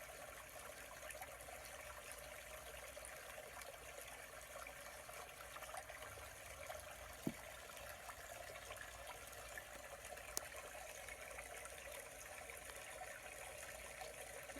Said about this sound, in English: just listen to this waterfall music and take some deep breaths